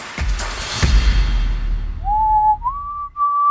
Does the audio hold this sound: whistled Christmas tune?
yes